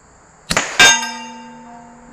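A pellet from a PCP air pistol hits a steel gong target: a short crack, then a loud bright clang with sustained harmonic ringing that fades gradually under a faint outdoor background, without speech.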